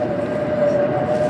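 Inside a bullet train travelling toward Beijing, a steady low rumble of the carriage runs with a faint tonal whine, and a voice is heard briefly over the noise.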